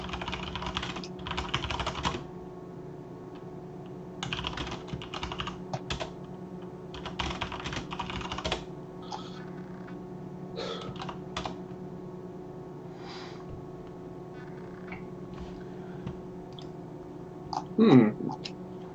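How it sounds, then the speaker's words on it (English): Keys clatter on a computer keyboard in uneven bursts of typing over a steady low hum, with pauses between runs and a louder knock near the end. "I'll type those out for you, Frank."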